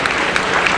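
An audience at a children's naat competition applauding, a brief dense patter of many hands clapping, loud and close.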